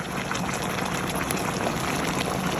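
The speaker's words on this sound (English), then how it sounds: "on top I'm gonna be putting some hot boiled water, just enough to cover the meat" Hot boiled water poured over meat in a pot while making plov: a steady, close rushing and splashing of liquid that runs evenly for a few seconds with no talk.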